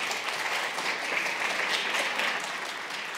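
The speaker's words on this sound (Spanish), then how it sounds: "Un aplauso, por favor, para Felipe." Dense, steady applause from a conference audience at a fintech forum in Chile, welcoming speaker Felipe Pastenes to the stage, sustained and even throughout with no talk over it.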